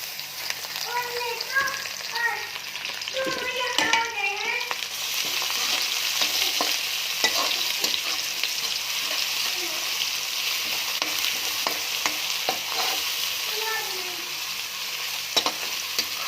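Browned onions fry with garlic, ginger and green chilies in a pan, a continuous crackling sizzle with spoon scrapes as the mix is stirred, while a voice speaks intermittently over it.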